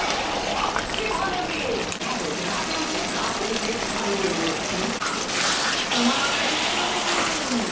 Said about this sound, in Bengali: মাংসটা কষানো হয়ে গেছে, এখন আমি গরম জল দিব